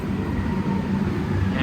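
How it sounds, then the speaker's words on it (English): A Shanghai subway train pulls into the platform with a steady, loud rumble and hiss of wheels on rail, continuous throughout with a faint voice underneath. "See, the train is coming,"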